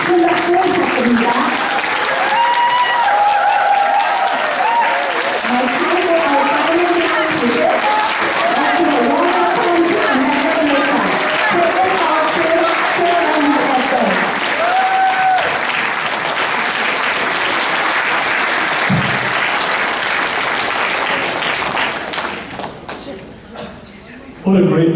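Big, sustained audience applause at a Truth Forum gathering welcomes a speaker onstage, heard with music and voices layered over it. The clapping stays loud for around twenty seconds, then quickly thins and fades.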